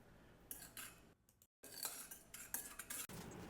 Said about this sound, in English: Mix in the sugar.